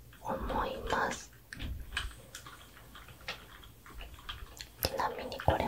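Typing on a gaming keyboard with red switches: soft, irregular key clicks and taps, close and quiet, mixed with hand movements under a whispering voice.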